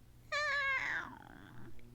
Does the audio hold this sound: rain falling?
no